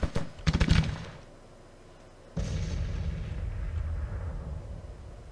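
Horse artillery cannon fire in a Grand Tactician: Civil War battle: a quick cluster of sharp booming shots at the start, then a lull, then a sudden heavy rumbling roar of distant guns that rolls on to the end.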